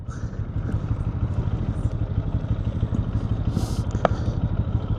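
A Lifan KP motorcycle chugs along slowly at low revs, its steady, close engine pulse loud and even as it eases into a parking spot, with a brief clatter partway through.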